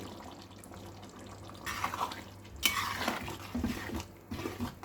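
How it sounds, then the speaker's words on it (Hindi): Cashew paste is added to a vegetable korma cooking in a pan and stirred in with a spoon, giving wet squelching and scraping with a few light clinks, close and fairly quiet with no talk. "अब इसमें हम काजू का पेस्ट डाल देंगे"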